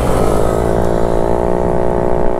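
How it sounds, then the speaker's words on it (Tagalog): A noisy motorcycle engine drones loud and close throughout a ride, a steady rumbling hum with rising harmonic tones as the bike accelerates. "ang ingay ng motor ko"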